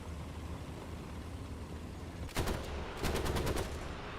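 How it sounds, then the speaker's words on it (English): Gunfire from a low-tier tank video game, two short bursts of rapid shots ringing out over a steady rumbling engine background, the first burst brief and the second longer with several distinct cracks. "No idea what gun that is, but it sounds good."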